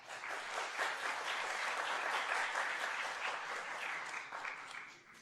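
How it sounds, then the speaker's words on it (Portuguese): A theater audience at a stage performance breaks into steady, full applause, a dense sustained wash of many hands clapping that fades slightly at the end, with no talking over it. "Uma salva de palmas."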